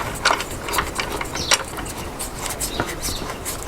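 Clamp on an Evolution R210SMS+ mitre saw being tightened, giving a close run of rapid ratcheting clicks and mechanical rattles with a few sharper snaps.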